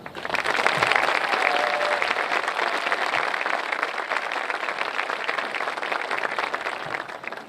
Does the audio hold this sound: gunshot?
no